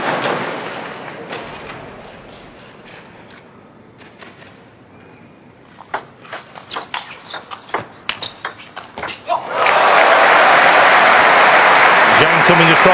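Crowd at the 2011 German Open men's singles table tennis final roars loudly in support of Timo Boll, a sustained burst of cheering and applause that follows commentary and scattered ball pings and claps.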